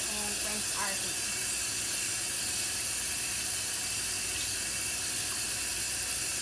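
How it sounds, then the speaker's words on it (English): Water runs from a sink tap as hands are rinsed, a steady close hiss of flowing water that continues without a break. "we're going to go ahead and rinse our hands"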